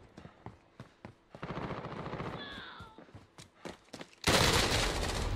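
Rapid bursts of video game gunfire crack out in a busy firefight, with repeated shots and automatic volleys, then a loud sustained blast of noise near the end.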